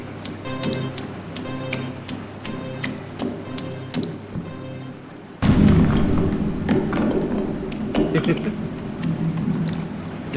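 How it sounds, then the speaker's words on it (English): A loud, broad burst erupts at mid-clip in the Dead Format video game, a sudden heavy boom that swells and lingers with rumbling debris-like noise, following a quieter stretch of ambient game sound. "Didn't know how big the explosion was going to be."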